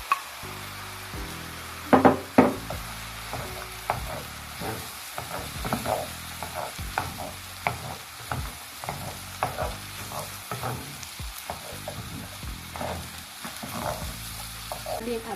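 Tomatoes sizzle in a pan of frying pork for a wet fry dish, a steady close hiss broken by repeated scraping and clattering strokes of a utensil stirring throughout, with no talk.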